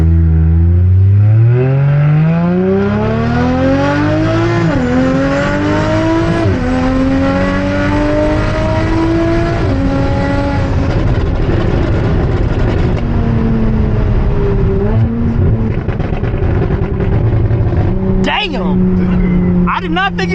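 A single-turbo BMW N54 car launches on a drag pass, its engine revving hard and loud up through several gear shifts with a clear rising pitch between each, close and dominant, with a voice briefly heard near the end.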